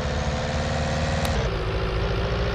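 A tractor engine in Farming Simulator 19 runs steadily with a constant mechanical drone, its tone shifting slightly partway through as the engine is pushed harder, with no talking over it.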